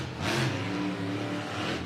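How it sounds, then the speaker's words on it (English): A Monster Jam monster truck, Bakugan Dragonoid, roars loud and close during a freestyle run at an Orlando stadium event. Its engine revs in rhythmic throttle surges, swelling and easing twice in under two seconds. "you can hear that Anderson throttle rhythm coming out of Ryan right now"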